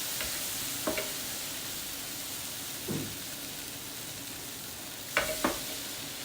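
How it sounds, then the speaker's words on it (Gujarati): Water sprinkled onto besan capsicum sabzi cooking in a pan brings a steady hiss of sizzling, broken by a few brief spoon scrapes and clicks. "થોડું પાણી આવી રીતે છાંટી લેવાનું છે."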